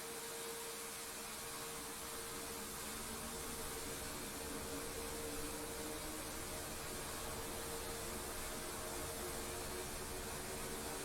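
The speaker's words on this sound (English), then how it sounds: "Let's go ahead and hit start and keep an eye on left engine." A Ka-50 helicopter's left engine spins up during start in the DCS flight simulator, a steady broadband whine and rushing hiss with faint tonal hum, holding at an even level throughout with no talk.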